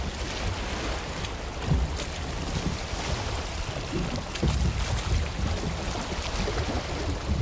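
A sailboat moves through open water in Valheim, with steady wind rush and a continuous wash of waves against the hull, and a few louder swells breaking through the constant noise.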